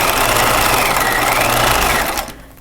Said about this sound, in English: I'm just going to sew these nice long straight seams